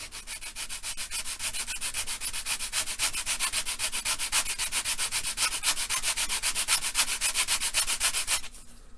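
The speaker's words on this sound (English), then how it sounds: "And then sand down this nose piece." Balsa wood is rubbed with 120 grit sandpaper in quick, rhythmic back-and-forth strokes, close and steady for about eight seconds before stopping abruptly.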